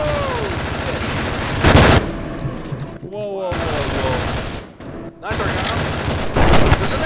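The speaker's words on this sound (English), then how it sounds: "Flashbang!" A flashbang grenade going off in the tactical shooter game Due Process, amid loud bursts of gunfire and blasts separated by brief quieter gaps, with voices talking over the action.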